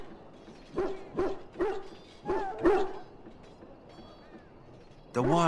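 Dog barking in the video game Dragon Age: Origins, a series of about five sharp barks in quick succession, followed by a brief whimpering yelp at the end.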